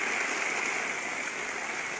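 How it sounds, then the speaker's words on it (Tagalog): Flood water from an overflowing river pours over a dike at the Pawa crossing in Masbate, a steady broadband rushing roar with no pauses or voices. "Umapaw na sa ilog. Ayan o, sa dike ng ilog"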